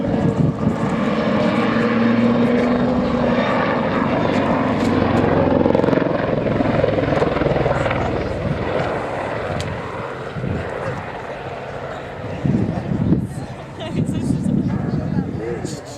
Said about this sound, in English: Nick getting the aircraft stable, and for another backflip